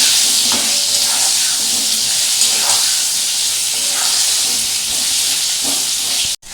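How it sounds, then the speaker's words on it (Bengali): Potatoes and turmeric fry in hot oil with a loud, steady sizzling hiss that fills the clip, punctuated by faint occasional stirring clinks, close and continuous. "এবার এটাকে আমি একটু ভালো করে ভাজবো।"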